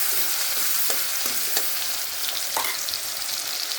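Chopped tomatoes and onions sizzle and fry in a hot pan at home cooking, with a steady close crackle and occasional stirring scrapes, and no voices.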